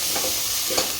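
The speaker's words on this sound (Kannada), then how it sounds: "ಈಗ ಇದಕ್ಕೆ ಸ್ವಲ್ಪ ನೀರು ಹಾಕ್ಕೊಂಡ್ರಿ." Water poured into a hot, sizzling pan while making dal khichdi gives a close, brief hiss and splutter, with two short bursts of sizzle against a steady frying background.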